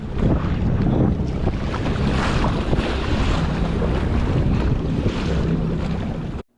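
Choppy sea waves slap around a fishing kayak on Long Island Sound in autumn. Constant close splashing and wash sit under heavy wind buffeting on the microphone, loud and steady until an abrupt cutoff.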